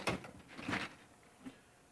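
A metal drawer of a Milwaukee 46-inch tool box slides open with a short rolling scrape and rattle, followed by a faint clunk, close by in a quiet room.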